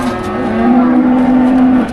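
A cow moos loudly and close at a busy cattle market, one long sustained low call lasting almost two seconds.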